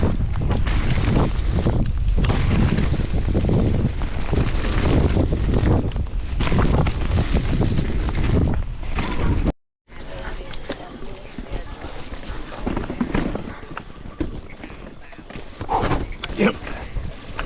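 An Ibis Ripmo mountain bike rolling downhill on a trail, heavy wind roar buffeting the microphone alongside rattling and rumbling from the tires and frame. A brief dropout comes midway, then the rumble resumes more quietly with scattered knocks.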